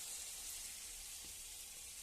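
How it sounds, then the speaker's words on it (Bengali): Besan-battered pieces slide into hot frying oil, setting off a faint, even hiss of sizzling that holds steady without any talk. "বেসনে ডুবিয়ে এই তেলে ছেড়ে দিচ্ছি।"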